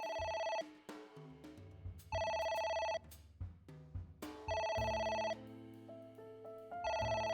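An in-game phone rings in AI: The Somnium Files with a bright electronic melody, looping in loud, evenly spaced bursts separated by brief pauses, with no voices over it.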